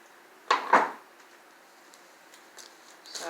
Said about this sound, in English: I have to cut out a new piece of Stitch Witchery.